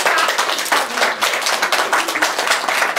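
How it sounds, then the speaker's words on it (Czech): A group of nursery-school children clap together during an overnight stay at the kindergarten, a dense, steady patter of many small hands that fills the room for a few seconds with no talk over it. "Elence zatleskáme"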